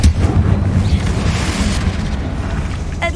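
A Confringo spell explodes in Hogwarts Legacy with a deep, loud boom that rumbles on for a few seconds, followed by a short sharp burst near the end.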